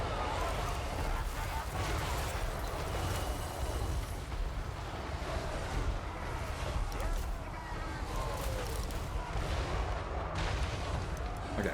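Artillery-style cannon fire in a video game battle, dense booms and gunfire rumbling continuously under a voice giving commands, with constant battlefield noise throughout.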